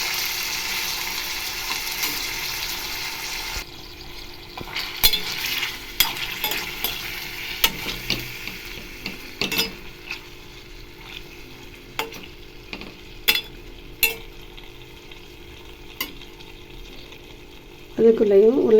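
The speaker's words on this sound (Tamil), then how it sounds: "இது நல்லா எண்ணெயிலே இதை நல்லா கொஞ்சம் ஃப்ரை பண்ணணும்." Chicken gravy ingredients frying in oil in a pan: a broad sizzle early that drops away, followed by irregular scraping stirs and clinks against the pan, and a louder burst of sound at the very end.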